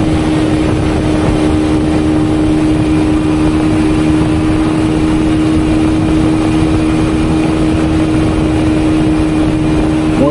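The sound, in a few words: motorcycle engine while riding on road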